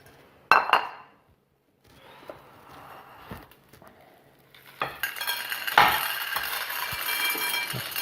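A bowl being picked up and handled during a soft-ground embankment model demonstration, with a sharp clink, quiet scraping and light knocks, then a busier rattling handling noise near the end.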